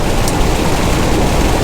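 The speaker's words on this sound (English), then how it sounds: "I don't mind this rain, you know." Heavy rain pours onto a truck in a loud, dense, continuous hiss and patter that fills the whole moment without a break, with no voices over it.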